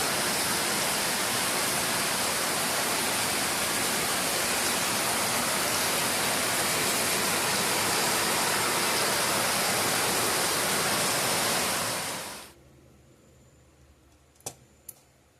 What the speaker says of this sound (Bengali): এই বৃষ্টি পড়তে আছে